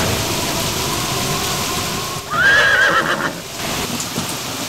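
Storm sound effect for a radio drama about a ferry boatman: steady wind and rain hiss throughout, with a brief horse whinny rising above it midway, no voices.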